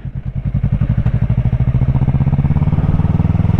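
Motorcycle engine pulling away and gathering speed, a loud close rhythmic thumping exhaust pulse that quickens and steadies as it runs on.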